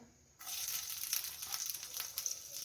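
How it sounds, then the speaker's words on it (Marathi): Spices hit hot oil in a pan with a sudden burst of sizzling, tempering for chicken 65; a bright crackling hiss then carries on steadily with small spitting pops, close and fairly soft. "या सिक्स्टी फाय तळलेल्या पॅनमध्ये मी फोडणी देणार आहे"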